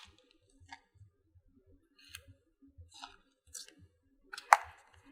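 Scissors cutting around a shape drawn for a craft project: a few soft, scattered snips, quiet and close, with one sharper cut near the end and no talk.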